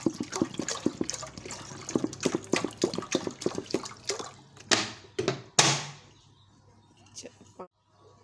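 Water is poured into a pot for beef yakhni pulao, splashing and trickling unevenly with a few louder gushes. It trails off into quiet near the end.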